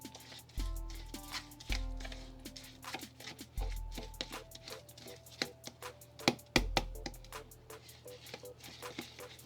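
Grainy brown rice and honey body scrub is stirred and mixed in a container, giving repeated close clicks, scrapes and taps at an irregular rhythm, quiet with no talk.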